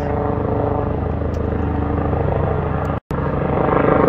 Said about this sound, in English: a helicopter that wants this Thai food, but is not gonna get it